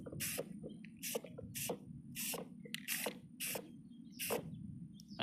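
Spray paint cans hissing onto a toy truck in repeated short bursts, about eight sharp sprays with pauses between, close and clear over a low background hum.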